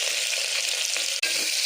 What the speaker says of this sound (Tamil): வெங்காயம் நல்லா சவுண்டு வரட்டும்.